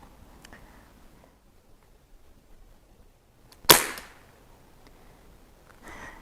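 A single sharp, loud crack from a Seneca Dragonfly MK2 .22 pneumatic pump airgun, fired once outdoors, with a short decaying tail and quiet background before and after.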